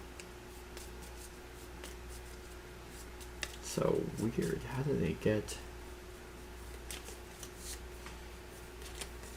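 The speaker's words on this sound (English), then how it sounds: "And now we shuffle and fill it out" A deck of cards for the Imperium Legends board game is riffle-shuffled close by, a quick run of flutters lasting about a second and a half. A steady hum runs underneath, and a person speaks briefly around it.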